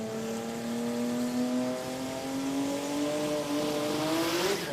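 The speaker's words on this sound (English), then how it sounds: "Oh, sadly, fair bit of wheel spin, overboost. Car wasn't happy." Drag race car launching at an Australian sports compact drag racing event, with wheel spin and overboost; a loud engine note climbs steadily in pitch over several seconds, rising sharply at the end.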